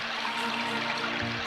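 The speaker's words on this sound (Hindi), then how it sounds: "ये पानी की आवाज को सुनकर ऐसा लगता है कि पूरे पोखर का पानी पी लूं।" Water at a pond: a soft continuous trickling and splashing, fairly close and moderately quiet, with a low steady hum underneath and no voices.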